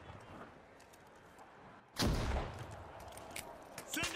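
A sudden loud grenade blast in a video game tears through quiet ambience at the midpoint, followed by a rumbling tail and a few smaller crackles and bursts.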